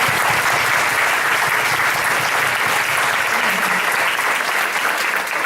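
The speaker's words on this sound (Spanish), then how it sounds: "Otro aplauso, perdón." Sustained audience applause at an institute's lecture event, dense steady clapping throughout, fairly loud and even, with no voices on top.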